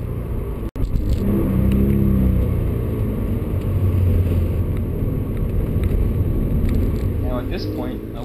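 A 2013 Toyota GT86 sports car engine rises and rumbles steadily through a downshift, heard from inside the cabin, with someone speaking over it for much of the time.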